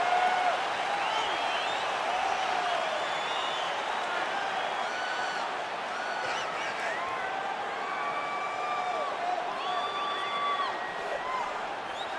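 A sold-out crowd applauds and cheers at a UFC flyweight championship fight in the EA Sports UFC 4 video game. A steady, moderately distant wash of clapping and crowd noise runs throughout, with a few faint whoops.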